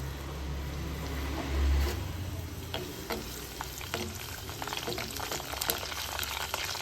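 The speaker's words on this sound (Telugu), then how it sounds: "ఇవన్నీ నూనెలో మంచిగా ఫ్రై చేసుకోవాలి" Cumin seeds, dried red chillies and crushed garlic frying in oil, a continuous crackling sizzle with scattered spoon stirs, close and moderately quiet, no talking.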